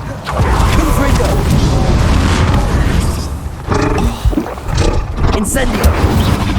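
A Confringo fire blast spell in Hogwarts Legacy: a loud, roaring, booming burst of flame and explosion that fills the moment, sustained and close, with rumbling surges and sharper crackles over the top.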